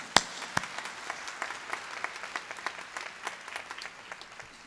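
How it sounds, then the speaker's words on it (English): Scattered applause from an audience at a university commencement ceremony, a few sharp claps at first then a steady patter of clapping that slowly thins out. "one more round of applause."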